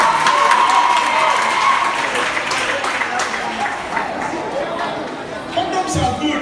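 Audience applause and cheering from a crowd at a talk, loud and sustained throughout, with murmuring chatter mixed in and slowly fading toward the end.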